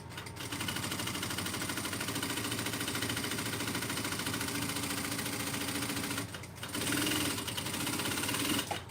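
A sewing machine runs steadily, basting layers of a Magdalena Circle Bag together. The close, continuous mechanical whir pauses briefly near the end and then resumes.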